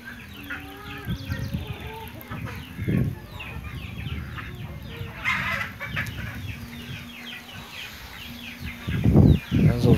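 Farm hens cluck and squawk around a newcomer bird in a mixed yard. The busy, uneven clucking comes from several birds nearby, with louder bursts near the end.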